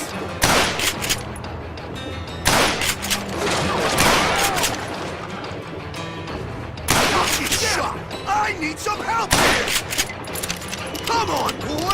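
Rapid gunfire bursts from Call of Juarez: Gunslinger, a Western shooter game, with sharp repeated shots in clusters over a busy mix of music and effects, and a voice talking between volleys.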